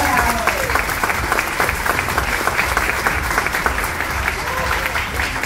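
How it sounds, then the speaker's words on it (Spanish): A crowd at a graduation event applauds the hairstyle contestants with dense, sustained clapping, loud and fairly close, while voices murmur underneath. "les pido que le den un aplauso a todos, porque realmente todos son ganadoras"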